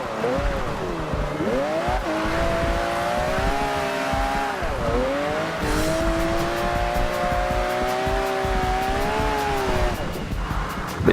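A 2013 rear-wheel-drive Mercedes-Benz E63 AMG drifting in Forza Horizon 2 on a small figure-eight track, its engine holding a loud steady drone with tire squeal, dipping and rising as it shifts through the slides.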